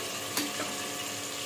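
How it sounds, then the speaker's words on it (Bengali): Potatoes with a little salt fry in a pan, giving a steady low sizzle with a brief stir-like clatter near the start, close and moderately quiet, no voices. "আলুটা একটু ভাজা হোক"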